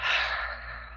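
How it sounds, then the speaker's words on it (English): A single breath during a hatha yoga class, a close airy exhale that fades over about a second, with no talking. "Inhale nose and exhale mouth."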